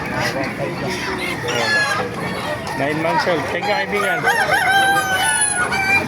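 Several roosters crow loudly and close by at a gamecock market in Baliuag, Bulacan, their calls overlapping with someone talking throughout.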